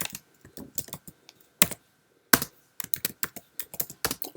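Keystrokes on a Mac keyboard as a folder name is typed: quick bursts of close, crisp clicks with short pauses between them, no voice present.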